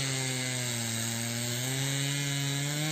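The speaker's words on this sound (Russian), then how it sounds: "В лесу раздавался пила дровосека." A chainsaw cuts fallen trees into firewood outdoors, its engine holding a loud, steady, close whine with a slight rise in pitch throughout.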